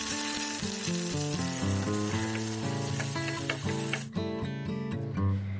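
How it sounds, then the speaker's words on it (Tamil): Shallots, dried chillies, tomato and curry leaves fry in hot oil with a continuous hiss, partly buried under loud background music with a melodic tune. "பொடியாக நறுக்கின 10 சின்ன வெங்காயம், 4 மிளகாய் வத்தல், பொடியாக நறுக்கின அரை தக்காளி, கொஞ்சம் கருவேப்பிலை சேர்த்து வதக்கிக்கலாம்"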